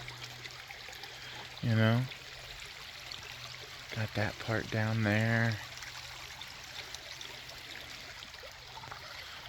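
A creek trickles and flows steadily near a small marshy patch, a soft continuous wash of water under a man's brief, close speech.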